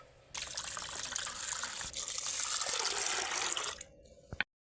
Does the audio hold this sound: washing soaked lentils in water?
yes